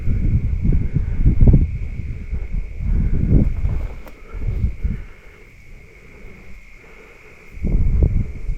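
Wind gusts roar through trees in bursts, loud and blustery with low rumbling swells, easing off into a quieter lull before another strong gust rises.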